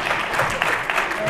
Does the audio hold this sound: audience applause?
yes